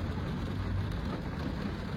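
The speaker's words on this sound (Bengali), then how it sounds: "বাইরে কতটা বৃষ্টি হচ্ছে এখন" Rain falls outside during autumn in Canada, a steady, dense hiss of drops that holds even and continuous with no pauses.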